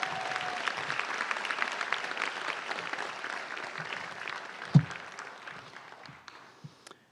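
Audience applause at a new student convocation in a college hall, a steady round of clapping from a crowd that gradually thins and fades out toward the end.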